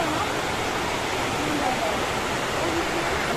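Water from a river near Meenmutty waterfall rushes steadily over rocks and gravel, a dense, continuous broadband roar that stays even and close throughout with no voices.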